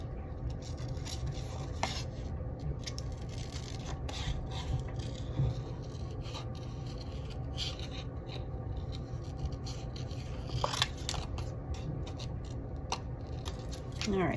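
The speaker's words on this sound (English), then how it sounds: "going to cut out our extra little bunny" Scissors snip steadily through a printed paper bunny cutout, a close, soft rasping crunch repeating in uneven strokes with light rubbing of paper, no talking.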